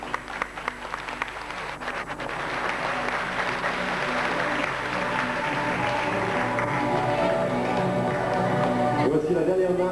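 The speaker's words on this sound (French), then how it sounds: "On les applaudit quand même." An audience at an aikido demonstration applauds, with scattered claps at first swelling into steady, sustained clapping that continues to the end as a voice speaks over it.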